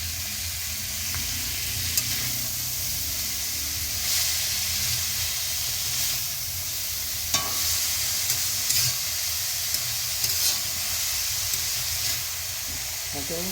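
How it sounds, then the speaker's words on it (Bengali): Freshly picked chopped spinach sizzling in hot oil in a pan while being stirred, a continuous loud hiss and frying crackle with occasional scraping of the spatula, steady throughout. "সেই পালং শাক দিয়ে দিলাম"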